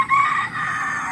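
Free-range village chickens on a poultry farm, a single close, loud rooster crow stretched across the short clip, with faint clucking underneath.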